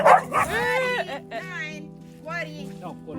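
Dogs meeting at a house in Tuscany yip, whine and bark in short rising and falling bursts, close by and mixed with people's voices.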